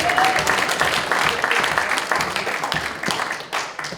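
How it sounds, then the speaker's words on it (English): A small audience applauds a poker champion, a dense patter of clapping that fades slightly toward the end, with some voices mixed in underneath. "So Bok is the champion. Let's give him a round of applause."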